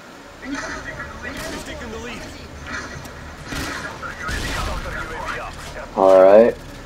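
Grenade launcher fire in a first-person shooter video game: a few loud, broad blasts among ongoing in-game gunfire and effects, with someone talking over much of it.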